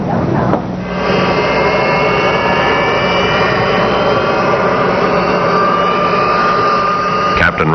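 Jet airliner engines at LAX in the 1960s drone steadily as the plane taxis toward the runway, a loud continuous whine over low rumble, with a brief burst of other noise near the start and end.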